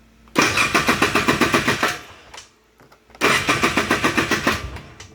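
A 2006 Polaris Trailblazer 250 ATV engine cranks and fires up twice, each time chugging in a quick, even series of loud, close pulses for about a second and a half before dying back to near quiet.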